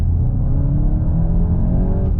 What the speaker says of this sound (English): It actually sounds really good for being a 4-cylinder